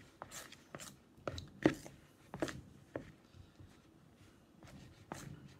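Cloud dough being stirred and mixed in a bowl, giving soft irregular scraping and tapping strokes at low volume, close by in a quiet room.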